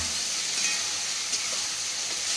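Taro stolons fry in a pan with spice paste mixed in water, giving a steady, loud, even sizzle and hiss that holds for the whole moment with no pauses.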